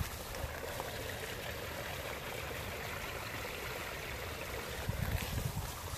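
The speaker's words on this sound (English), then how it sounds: "Some of the runoff from Coldwater Spring." Spring runoff water from a cold spring flows steadily in a small stream, a continuous broadband rush and trickle heard alone, with a brief slightly louder surge near the end.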